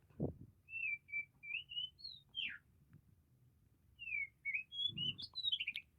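An oriental magpie robin sings clear whistled phrases, rising and falling notes in two bursts separated by a pause, fairly close against quiet background with faint low rumble.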